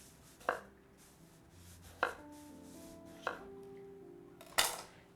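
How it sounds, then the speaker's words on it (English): A knife cuts slices from a skin-on potato on a board, making four separate sharp chops spaced about a second apart, close and fairly quiet, with no talking. "I'm just gonna do slices of potato"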